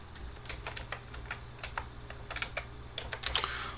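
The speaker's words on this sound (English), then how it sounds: "Type in disk part." Keys clack on a computer keyboard as a disk partition command is entered, a quick uneven run of close, crisp taps over a steady low hum.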